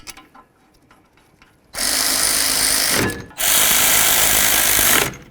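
A power tool driving caliper bracket bolts on a 2006-10 Dodge Charger's front suspension runs in two loud, steady bursts of about a second and a half each, with a short pause between, close up and alone.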